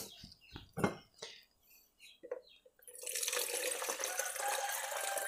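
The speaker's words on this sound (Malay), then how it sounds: "Yang gula merah tadi ni, kita tapis dia. Kita guna cawan ni." Palm sugar syrup is strained through a sieve into a cup: a few soft clicks and handling noises, then a continuous close trickle of liquid pouring for the last couple of seconds.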